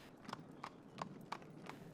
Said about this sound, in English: You now gradually find yourself in a slow-moving, dimly lit, horse-drawn carriage.